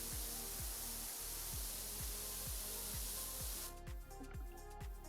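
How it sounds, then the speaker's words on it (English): Steady loud hissing spray of a power washer blasting dirt off a fire station in the video game PowerWash Simulator, with a regular low thumping pulse beneath, continuous until it briefly breaks near the end. "Let me spray the dirt."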